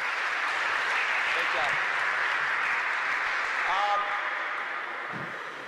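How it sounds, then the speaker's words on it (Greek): Sustained audience applause for players at a basketball coaching clinic, a dense, even wash of clapping holding throughout and fading slightly at the end. "You give those guys a hand. They're doing great."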